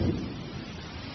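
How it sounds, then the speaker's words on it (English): Deep thunder rumbles low and steady through a brief moment of a thunderstorm, without any other sound standing out. "Thunderstorms may be brief here, but they often presage long rainy spells."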